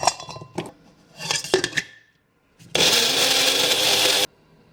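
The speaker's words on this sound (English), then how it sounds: "Next, we're going to blitz up the garlic and ginger. So I've got my trusty little blender here." A small kitchen blender blitzing garlic and ginger runs in one loud, steady burst of about a second and a half. Before it come clinks and knocks of lid and jar handling, then a brief pause.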